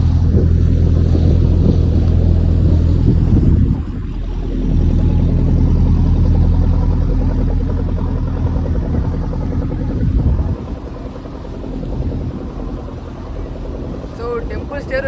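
A motor boat rides across brackish Chilika Lake with a loud, low engine drone that eases off partway through and is joined by passing water and wind noise, while voices talk over it.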